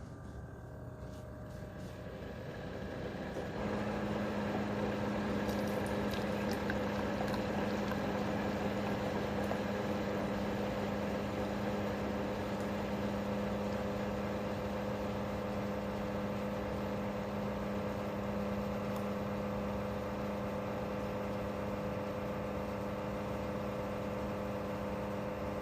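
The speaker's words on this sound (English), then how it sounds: "now we're going to do the mocha latte" A Keurig K-Duo 12-cup coffee maker with a single-serve K-Cup pod brewer brews a mocha latte. A quiet start gives way to a steady, close pump hum with a constant tone, and no one speaks.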